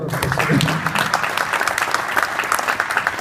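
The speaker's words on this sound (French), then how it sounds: "Donc vous pouvez applaudir" An audience applauds the announcement of a European Union championship at a boxing event in Trouville, a thick, continuous wash of clapping with a voice briefly heard at the start.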